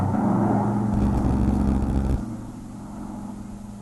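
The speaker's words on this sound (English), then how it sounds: "Scarcely before the roar of the engines faded from her ears upon the landing of the big tri-motor at Buryport, Wales, Amelia" Engines of a big tri-motor airplane roar loud and steady as it arrives for a landing in Wales, then abruptly drop to a quieter, lower drone partway through.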